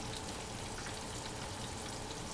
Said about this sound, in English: You hear that sizzling? That means the grease is at the right temperature.